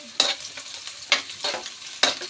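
Garlic and onion sauté in a pan for a papaya coconut-milk dish, with three distinct stirring scrapes cutting through a steady soft sizzle, each stroke sharp at onset and fading out.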